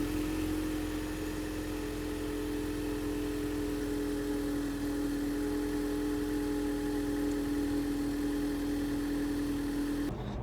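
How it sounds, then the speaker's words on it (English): A Ford Mustang EcoBoost with an MBRP Race exhaust heard from inside the cabin, a steady, moderate engine drone and hum holding constant throughout with no talking. "This is what the Ecoboost sounds like inside the car."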